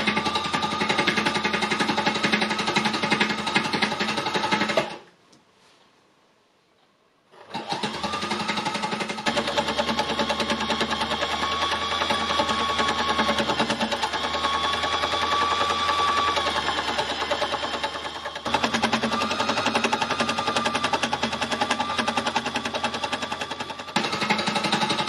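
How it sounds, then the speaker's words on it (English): A needle punch embellisher machine with 12 needles pounds fabric scraps together in a loud, dense, rapid mechanical chatter that runs continuously, stops for a couple of seconds, then resumes steadily. "It's got 12 needles in here that are going to needle punch the fabrics together."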